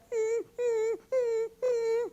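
A human voice imitates a dog whimpering: four drawn-out, nasal whining moans in a steady rhythm, close and clear with no other sounds.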